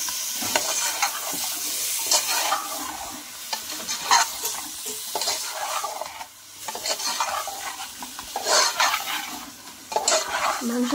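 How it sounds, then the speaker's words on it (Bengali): Chicken pieces stirred in hot oil with spice masala, a continuous sizzle with repeated scraping strokes of a spoon against the pan, close and fairly loud. "সামান্য তেল দিয়ে, সামান্য মশলা দিয়ে এখন আমি মাংসগুলো দিয়ে দেব"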